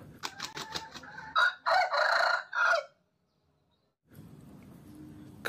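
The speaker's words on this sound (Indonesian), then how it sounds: "Widih, ayam." A toy chicken crows and clucks nearby, a run of sharp calls followed by a longer crowing phrase, then silence and faint background noise.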